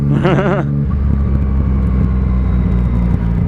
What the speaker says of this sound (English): you joined me on the MT-09, my new bike, with the Akra exhaust on.